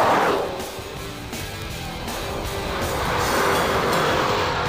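Marauder with 302 horsepower, 318 lb-ft of torque and a four-speed transmission accelerating out of turns on a test drive, giving a continuous close roar of engine and road noise.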